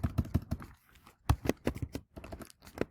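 Typing on a computer keyboard, rapid bursts of key clicks in an irregular rhythm with short pauses between runs, close and moderately loud with no talking.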